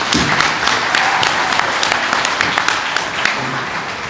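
Sustained applause from an audience at a school awards ceremony, steady and dense throughout with a few sharper claps standing out.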